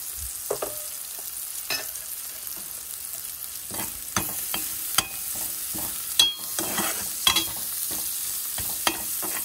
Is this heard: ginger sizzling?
yes